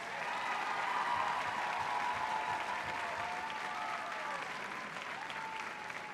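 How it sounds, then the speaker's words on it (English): Audience at a junior school production of The Little Mermaid applauds a crew member, a steady, moderately distant wash of clapping with faint voices underneath throughout. "let's give her a round of applause"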